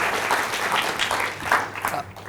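Audience applause for a speaker named Karthik at a Google Cloud Platform user group talk on TensorFlow recommendation systems, a short burst of steady, moderately loud clapping from a modest crowd.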